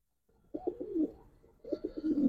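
Old-breed Giribaz and Khaki pigeons coo nearby in two short bursts of throaty rolling calls separated by a brief pause, with quiet surroundings.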